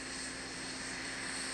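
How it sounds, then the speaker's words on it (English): A T-38 jet trainer aircraft flying, heard as a steady, loud engine roar with a constant hum underneath, continuous and unbroken with no voices. "Both the commander and the pilot also practice flying in their T-38 jet trainers."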